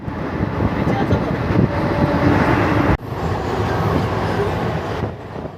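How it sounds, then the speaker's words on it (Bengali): The Haldibari Superfast Express runs between Rampurhat Junction and Pakur, heard from on board as a continuous loud rumble and rattle of coaches and wheels. A brief dip breaks the noise midway before the steady roar resumes. "রামপুরহাট জংশন ছেড়ে পাকুড়ের দিকে ট্রেন ছুটে চলেছে"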